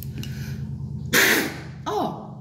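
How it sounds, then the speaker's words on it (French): A person sneezes indoors, loud and close: a sharp, explosive burst with a shorter, fainter follow-up a moment later, over a steady background hum. "j'ai envie d'éternuer, je le sens"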